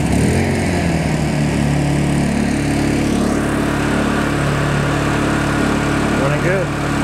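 A Honda generator engine starts and settles into a loud, steady close running drone, with a shift in pitch partway through and a voice briefly heard over it.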